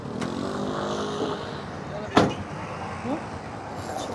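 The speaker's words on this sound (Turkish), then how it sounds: "Bayağı kalabalık bir trafik var." Busy evening street traffic in Lebanon, with a steady murmur of engines and passing cars, a sharp door-like thud midway, and people talking nearby throughout.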